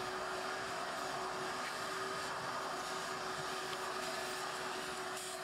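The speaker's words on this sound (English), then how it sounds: "I also vacuum off the door." A vacuum cleaner sucks up ash from a pellet stove door, running continuously with a steady, even drone and a constant whine, with no pauses or other sounds.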